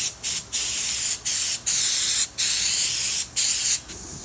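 Degreaser sprayed from an aerosol can onto parts during an off-road spare tire delete kit install, heard as seven short, loud, close hissing bursts separated by brief pauses.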